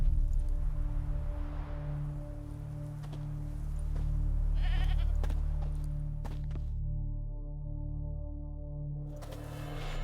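A goat tied to a stake as forktail bait in The Witcher 3 bleats repeatedly over a low ambient drone, with soft footsteps and occasional clops in the background.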